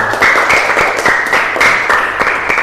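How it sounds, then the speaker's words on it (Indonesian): A classroom of students claps for group 2 in a loud, steady rhythm of about three to four beats per second, with a faint chanting tone running beneath the claps. "kita beri tepuk tangan dulu untuk kelompok 2"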